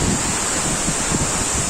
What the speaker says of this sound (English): We have reached the waterfall.